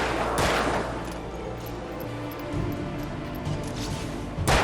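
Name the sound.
gunfire in Alan Wake video game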